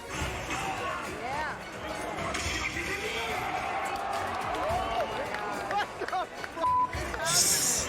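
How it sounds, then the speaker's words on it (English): A large crowd at an Evo fighting game tournament keeps up a steady roar and hubbub, with cheers and shouts swelling over continuous game commentary. "The crowd went nuts with every minor victory that this low-tier weirdo managed to pull out"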